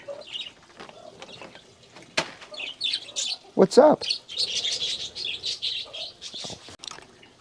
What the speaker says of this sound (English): These my loudest birds are my smallest birds.